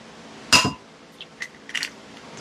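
An egg cracks sharply against a bowl for a frittata, followed by a few faint light clicks of shell.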